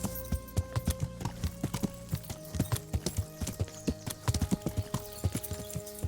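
Horse hooves clip-clop in a steady, brisk rhythm, a clear run of sharp clacks close by with no talking, in the video game Kingdom Come: Deliverance.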